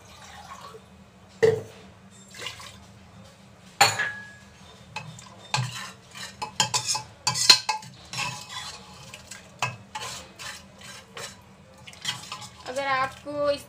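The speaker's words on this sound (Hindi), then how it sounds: "इसमें 1/2 गिलास पानी और डालेंगे।" Chana dal being stirred in a metal pot after an extra half glass of water goes in, with scattered clinks of a spoon against the pan and soft watery sloshing, close and moderately loud.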